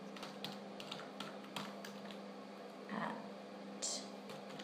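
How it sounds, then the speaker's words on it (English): Quiet typing on a computer keyboard, a scattered run of light key clicks with uneven gaps and a couple of slightly heavier taps, set against a low, steady room hum. "let's type in an invalid email address"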